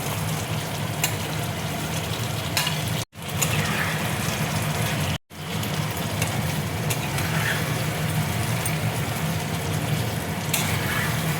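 Paneer going into a pan of oil-released masala gives a steady, close frying sizzle with a faint watery bubbling, broken by two brief dropouts, and no voices.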